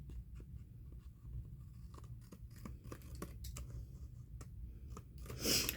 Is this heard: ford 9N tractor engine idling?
no